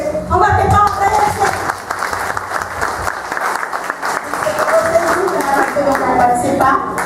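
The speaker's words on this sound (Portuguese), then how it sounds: "Vamos bater palmas para eles." A church congregation claps for the children, loud and close, a dense burst of applause mixed with cheering voices and chatter throughout.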